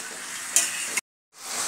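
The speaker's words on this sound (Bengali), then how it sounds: "এবার মশলা এই মাংসটাকে কষাতে থাকব।" Mutton with spices braising in a pan, a close, steady sizzle with a couple of brief spatula knocks, cutting to a short silence before the frying hiss returns.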